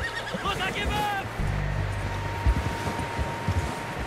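A horse neighs in the video game Red Dead Redemption 2, a close, quavering whinny followed by a low rumbling snort, with hoof sounds and game ambience around it.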